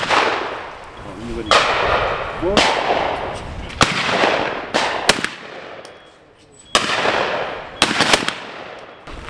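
Hunting shotgun shots outdoors, a series of about eight loud sharp blasts spaced irregularly, each with a short echoing decay, with brief pauses between some.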